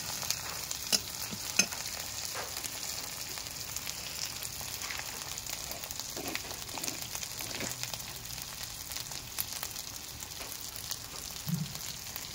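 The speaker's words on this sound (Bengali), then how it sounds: "আমার মশলাতে কিন্তু তেল ছেড়ে দিয়েছে" Spices fry in oil in a pan on a wood fire for a fish-head and banana-flower dish, giving a soft, constant sizzle with faint scattered clicks of stirring.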